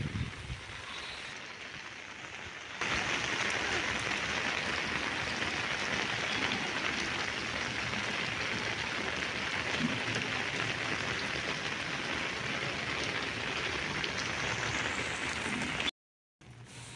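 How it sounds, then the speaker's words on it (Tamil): Heavy rain pours steadily over flooded Sivakamipuram, where storm damage has left houses close to collapse. The downpour makes a dense, unbroken hiss that holds at an even loudness, with a quieter stretch at the start and a short gap near the end. "எங்கு பார்த்தாலும் மழையாக பெய்து கொண்டு தான் இருக்கிறது"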